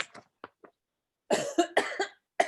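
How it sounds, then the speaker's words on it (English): Close, rough throat clearing in a few gruff bursts, preceded by faint small mouth sounds and followed by a short final rasp. "And clear my throat."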